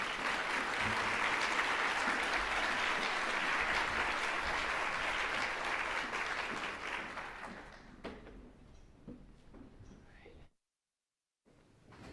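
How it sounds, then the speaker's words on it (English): Audience applause welcoming people onto a stage at a regional event, dense sustained clapping for about eight seconds that thins out and fades into scattered claps before a brief silence. "give them a warm applause and welcome them on the stage"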